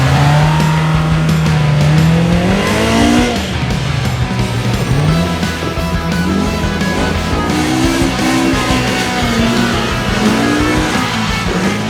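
A 2022 Polaris RZR Pro R side-by-side lapping a track, its engine loud and close, pitch climbing and dropping repeatedly as it accelerates and shifts, with tire noise mixed in and no talking.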